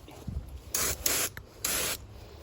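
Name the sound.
spray painting a 1967 Camaro with Rust-Oleum spray can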